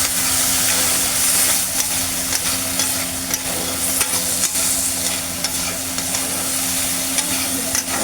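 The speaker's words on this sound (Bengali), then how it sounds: "বেগুনের মধ্যে হলুদ, একটু লবণ দিয়ে ভালো করে নাড়াচাড়া করা হবে।" Eggplant stir-fried in a pan with turmeric and salt gives a steady, close sizzle with soft scraping from stirring throughout, and no voices.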